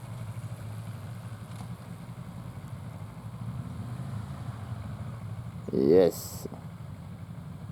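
A motorcycle idles steadily at a stop during a riding lesson, a low constant rumble beneath a brief spoken word and a short burst of radio noise near the end.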